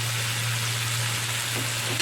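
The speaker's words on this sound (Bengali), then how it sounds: "ভালো করে ভেজে নেব হালকা ভাজা ভাজা হয়ে গেলে" Onions fry in oil with a loud, constant sizzle and crackle, heard close up, along with a steady low hum in the background.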